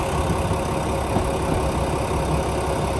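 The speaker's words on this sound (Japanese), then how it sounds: "諏訪の方面から行き違いとなる新山口行きの普通列車がやってきました。" A local diesel train bound for Shin-Yamaguchi pulls into Jifuku station on the Yamaguchi Line, its engine a steady, loud, rumbling drone with no talking.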